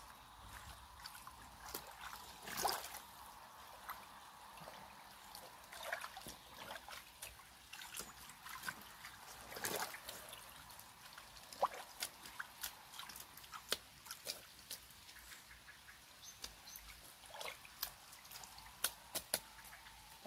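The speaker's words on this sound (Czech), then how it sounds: "Tak ještě přidám trochu vody" Water trickles and splashes while alpaca wool soaks, with scattered sharp drips and sloshing bursts over quiet background, intermittent and fairly faint throughout, no speech.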